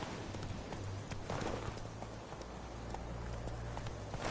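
Horse hooves clip-clop at a steady walking rhythm during riding in the video game Witcher 3, continuous and fairly close over a soft ambient bed.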